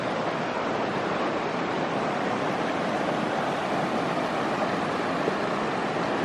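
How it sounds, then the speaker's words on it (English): A river along Shingle Creek rushes in a steady, broadband wash of flowing water, constant and fairly close, with no voices over it. "This river is just incredible."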